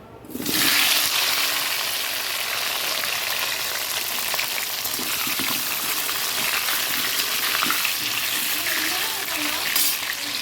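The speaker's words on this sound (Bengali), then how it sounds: "চিকেনটা বানাবো আলুগুলো দিয়ে দিচ্ছি" Potatoes go into a pan of frying chicken with dried chillies, setting off a loud, sustained sizzle and hiss of hot oil that carries on steadily throughout.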